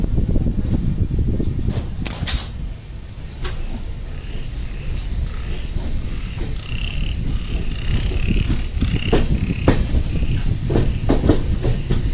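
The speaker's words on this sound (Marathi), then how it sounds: "तो ट्रेन आता निघाली आहे विलवडे स्टेशनवरून" Konkan Kanya Express train running after leaving Vilavade station on the Konkan route, a steady loud rumble of the moving train with repeated clicking and clacking from the rails, heard from inside the coach with no talking.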